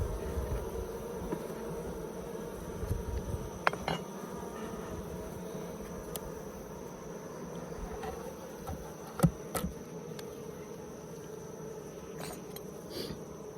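Honey bees buzz inside an opened Layens hive, a continuous, moderately close drone of many wings, with occasional sharp clicks and knocks from handling frames and no talking.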